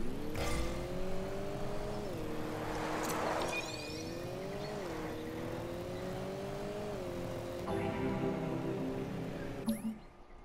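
A Rocket League car revs steadily with a rising and falling engine whine as it power slides while steering, the pitch bending through turns, with a short tire screech and a brief chime near the end.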